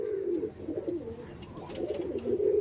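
Pakistani teddy pigeons cooing, soft rolling throaty coos repeating close by at low volume, with faint background noise and no speech.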